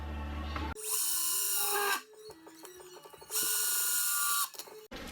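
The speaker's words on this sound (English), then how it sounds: "now we're going to screw it in to the cleats" Power drill driving screws through a basement bar cabinet into wall cleats: two loud, close bursts of whirring motor, each about a second long, separated by quieter clicks and handling noise.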